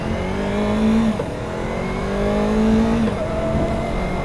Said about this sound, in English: we don't want to keep it in a constant RPM or revving way too high.